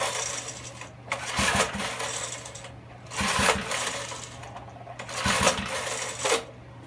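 Three pull-start attempts on a Snapper mower's Briggs & Stratton 5HP engine that won't start, each a rattling recoil-cord pull spaced about two seconds apart with no engine catching.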